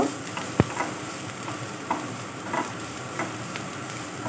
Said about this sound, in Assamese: তাত দিছোঁ মই সৰিয়হৰ তেল। তাৰপিছত ইয়াত দি মই একেবাৰে মিহি কৰি কাটি ৰখা ডাঙৰ পিঁয়াজ এটা।